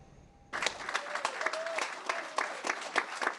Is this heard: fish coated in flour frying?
no